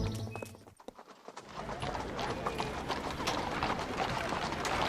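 A horse's hooves clip-clop close by in the Lucky Luke cartoon, a brisk, continuous trotting patter over a noisy background after a brief quiet gap at the start.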